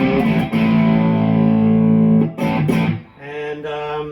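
A Gibson bass played through an amplifier set to medium gain gives sustained, slightly distorted notes, loud and close. A long held tone breaks into shorter phrases, with no talking.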